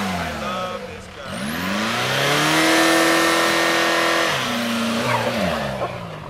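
A car revving hard during a burnout at a diesel-versus-gas race, the engine note climbing and holding a loud, sustained high whine with tire noise, close to the microphone and alone for several seconds.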